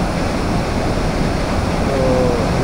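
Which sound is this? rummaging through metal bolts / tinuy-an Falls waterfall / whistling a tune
tinuy-an Falls waterfall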